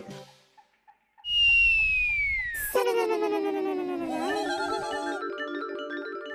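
A person whistles loudly after a few soft sounds: one long note sliding downward, followed by wavering, warbling tones, in a scene from a Hindi comedy series.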